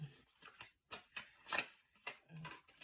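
A deck of cards is shuffled close by, producing a series of quick riffling and flicking bursts in an uneven rhythm, fairly quiet, with no voices.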